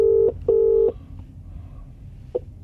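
A phone keypad sounds loud, close DTMF tones during a call to Vodafone voicemail. Two long beeps come in quick succession, followed by a short third tone over low background rumble, with no speech.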